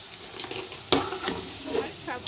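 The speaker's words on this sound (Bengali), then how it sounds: "এরকমভাবে আমি সবগুলো ভেজে তুলে নেব" Soya chunks deep frying in oil for chilli soya, a soft continuous sizzle with one sharp clack and a few quieter stirring scrapes, close but fairly quiet, without speech.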